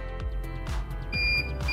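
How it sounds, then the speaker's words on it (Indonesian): A multimeter's continuity tester beeps as its probes touch the white wire and USB slot pin of a cable, giving several short, loud electronic tones in quick succession. "di sini terdengar suara beep"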